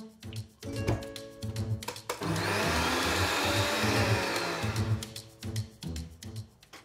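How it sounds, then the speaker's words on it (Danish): A kitchen blender purées Jerusalem artichoke soup, a loud steady whir holding for about three seconds in the middle, with clattering kitchen sounds and handling before and after. "Nu skal det hele bare en tur over i blenderen."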